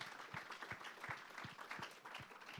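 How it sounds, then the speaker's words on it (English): An audience at a tech startup summit gives a brief, faint round of clapping, a quick patter of hands heard from a distance for a couple of seconds. "let's just give a round of applause real quick to the startups that made it out here today"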